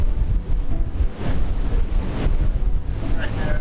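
Strong wind buffets the microphone on a ferry crossing to Rottnest Island, with a broad, continuous roar of wind and waves washing against the hull of the boat in high, roughly 1.5-metre seas.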